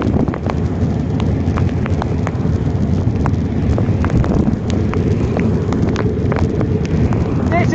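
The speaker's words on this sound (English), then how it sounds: "This is really hard rain." Hard rain while cycling in Crawley, a dense continuous patter with sharp drop impacts and wind rush, loud and close throughout.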